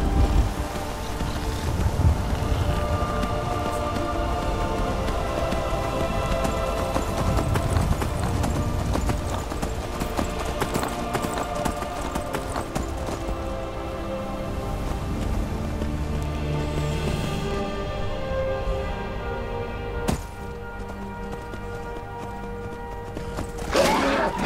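Horse hooves clip-clop at a steady walking rhythm while riding in the Skyrim video game on PS3, continuous and moderately loud over a dense bed of game music and wind-like ambience.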